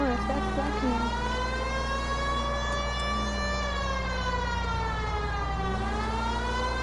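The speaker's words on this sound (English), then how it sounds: "I'm getting tired of that siren now." A police car siren wails continuously in the L.A. Noire video game while the car drives, its rising and falling tone loud and steady over a constant engine drone.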